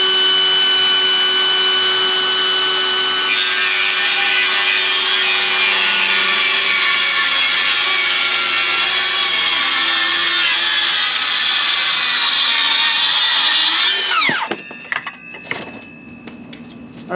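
Milwaukee M18 6.5-inch cordless circular saw cutting wood, a loud sustained high whine that rises as the blade bites in, then winds down sharply near the end, followed by some light handling noise.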